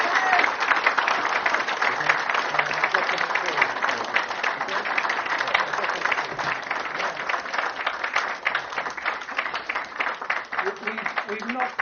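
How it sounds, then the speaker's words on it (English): A large audience at a political celebration event gives a long, dense, sustained round of applause that stays loud and steady throughout. "Could I ask you to give a really big round of applause?"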